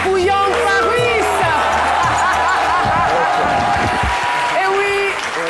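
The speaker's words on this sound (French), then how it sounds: "Déluge d'applaudissements pour Young Paris!" Studio audience applauds and cheers for a surprise guest, a Francophone artist based in New York, on a French-language midday TV show; dense, loud clapping fills the whole stretch with crowd noise and some voices mixed in.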